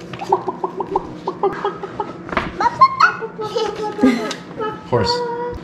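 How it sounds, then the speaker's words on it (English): A rapid run of chicken clucks, then voices and laughter mixing with further scattered clucking. "Chicken."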